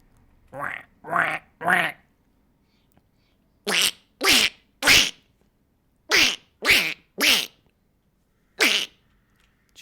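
A man imitates a duck's quack with his voice, giving three quick honking quacks, a pause, then three more, followed by another three and one last quack, loud and close against near silence.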